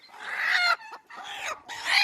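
Native country hens on a poultry farm cluck and squawk in loud, close bursts, three agitated calls separated by brief pauses.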